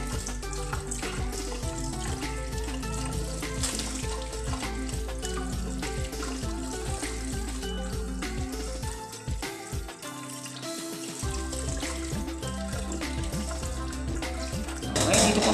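Mustard leaves are washed under a steady, close stream of running tap water that splashes continuously. It briefly thins near the middle and swells louder at the end.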